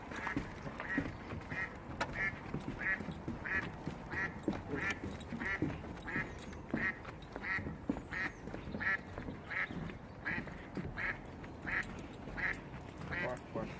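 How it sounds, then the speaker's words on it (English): A duck quacking by a lake on a chilly day, repeated nasal quacks in a steady rhythm throughout, mixed with people talking nearby and outdoor background noise. "There's a duck that just went flying into the lake."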